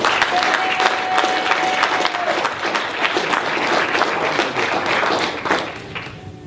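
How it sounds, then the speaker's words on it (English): A large audience claps loudly and steadily at an evening event on police terrorism to welcome a speaker, a dense, sustained round of applause that fills the whole stretch and eases slightly at the end. "I want y'all to give a strong round of applause for our brother Watani Tyiemba"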